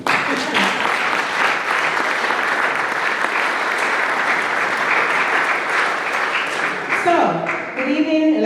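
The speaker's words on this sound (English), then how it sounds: "Please clap it up." Loud, sustained applause fills a hall at a college president's inaugural address, a dense wash of clapping from a large crowd that carries on steadily, with speech emerging at the very end.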